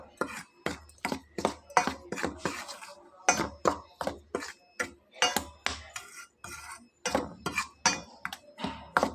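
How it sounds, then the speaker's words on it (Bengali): Dry flour and sugar stirred together in a bowl, a utensil clinking and scraping against the sides in quick, irregular strokes, close and fairly loud with no talk. "শুকনো উপকরণগুলো একটু নেড়ে চেড়ে মিলিয়ে নেব।"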